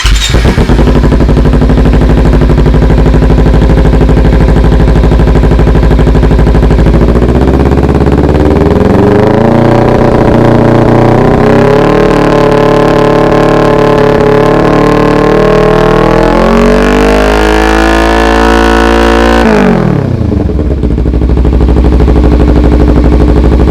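Motorcycle with a Coffman's shorty exhaust and its baffle removed, very loud and close: it idles, revs up and holds, climbs higher, then drops back to a rumbling idle.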